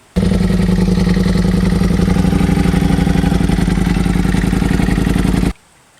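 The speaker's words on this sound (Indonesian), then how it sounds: "Wadidaw, ternyata motor balap." A racing motorcycle engine effect for a toy motorbike runs loud and steady for about five seconds, a continuous close revving drone with rapid clattering pulses, then cuts off abruptly into near silence.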